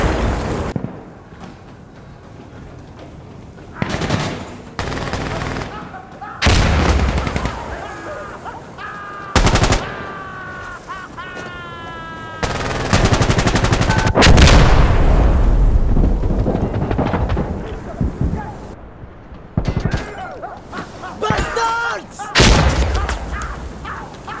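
Insurgency: Sandstorm combat is heavy and continuous, with repeated loud gunshots and bursts of automatic fire. A big rumbling explosion sustains for several seconds midway, and shouted voices are mixed in throughout.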